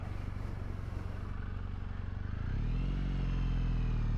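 A Triumph Bonneville T100 motorcycle making a slow U-turn: a close, steady low engine thrum with a rapid pulsing idle that deepens and smooths out partway through, no talk.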